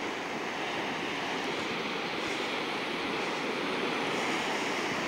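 Ocean waves rolling onto a long open sandy beach, a steady broad roar of surf with light wind noise on the microphone, constant and fairly loud with no talking.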